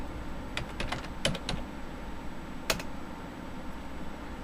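Keystrokes on a computer keyboard as a disk-partition command is typed while setting up a bootable Windows USB drive: a short burst of separate clicks, then a lone pair of taps later, over a quiet steady room hum.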